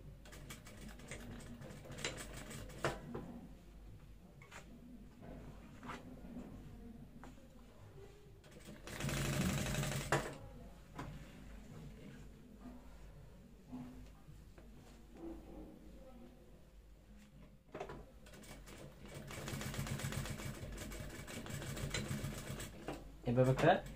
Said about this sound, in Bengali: আমি এখানে একটা সেলাই করে দিচ্ছি